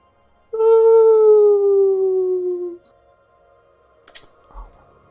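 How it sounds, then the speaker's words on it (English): Wolves howling in a video game, one long sustained, slowly falling howl with clear harmonics, followed by a few faint clicks and taps in a quiet background. "Hungry wolves."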